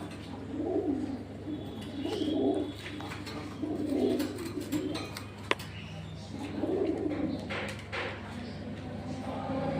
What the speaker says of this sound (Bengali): দেখতে পাচ্ছ এটা নর পায়রা